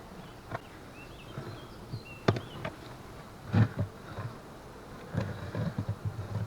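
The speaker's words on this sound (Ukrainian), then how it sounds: "бджоли сидять на заставній дошці" Steady low insect buzzing of honey bees around an open hive with bees gathered on the entrance board, fairly faint, with a few brief knocks and rustles rising above it.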